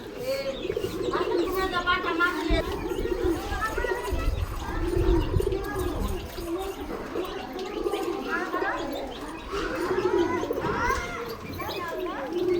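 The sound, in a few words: pigeon cooing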